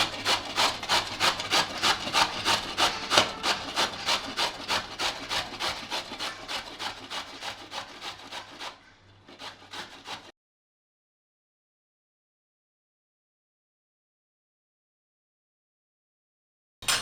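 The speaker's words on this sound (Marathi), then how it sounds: "आता आपण हा दुधी असा किसून घेऊया" Bottle gourd is grated by hand in a fast, even rhythm of about two dozen close rasping strokes that slowly soften, then stop, leaving near silence.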